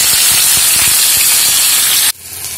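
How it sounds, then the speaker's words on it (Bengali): Potato pieces and drumstick (moringa) frying in a pan, giving a loud close hissing sizzle with light stirring knocks that suddenly drops to a softer sizzle near the end. "আলু আর ডাঁটা হালকা ভেজে নিয়েছি"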